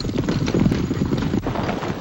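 A horse's hooves clip-clop steadily and fairly close in an old Western movie scene, with a dense, continuous rhythm of hoofbeats and no voices over it.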